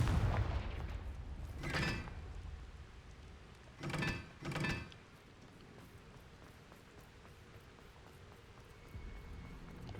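Three short, muffled blasts from the Confringo fire spell in Hogwarts Legacy, cast at a dragon fighting ring. One comes early and two follow in quick succession over a low background hum. All are faint and distant.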